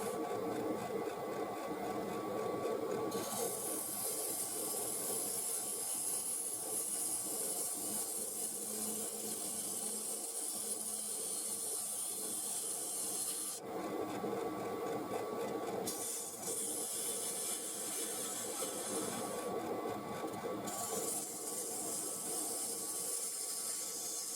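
An Easy Wood cutter shaves wood on a spinning lathe with a continuous close hiss and rumble, broken by several brighter, sharper cutting stretches.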